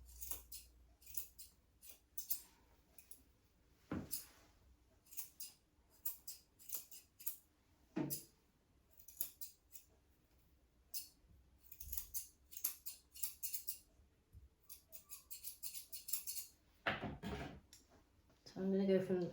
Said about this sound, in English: just go around with my curved scissors